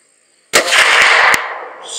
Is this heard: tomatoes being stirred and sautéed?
no